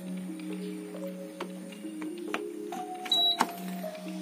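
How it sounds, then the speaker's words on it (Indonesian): An AC electric fan that is totally dead and will not spin gives a single short, high beep when plugged in, heard among faint hums, clicks and handling noises at a workbench. "saat dicolokin terdengar bunyi tit"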